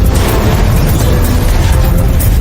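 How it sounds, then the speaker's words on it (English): A massive blast at a chemical plant produces a loud, sustained roaring rumble that fills the whole span without letup. "Surveillance videos from adjacent buildings illustrate the magnitude of the explosion."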